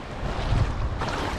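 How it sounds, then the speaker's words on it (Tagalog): Waves wash in toward the shore at a beach in Oas, Albay, a short burst of steady broadband surf rush mixed with wind buffeting the microphone, fairly close and loud, with no speech. "The waves are coming this way."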